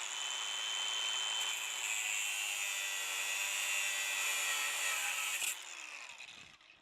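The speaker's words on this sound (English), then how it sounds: "Really handy tool is this DeWalt cordless angle grinder." A DeWalt cordless angle grinder with a cutoff wheel cuts through a hard steel Allen wrench, a steady high-pitched whining grind held close for several seconds before it abruptly stops and spins down.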